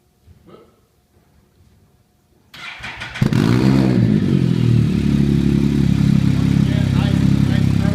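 After a brief quiet stretch, a Can-Am Spyder 1330 with an aftermarket muffler fires up with a loud start and settles into a deep, throaty, steady idle close by.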